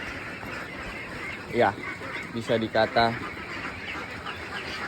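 Young meat ducks at eleven days old, eating eagerly, give a steady flock clamor of quacks and calls under someone speaking.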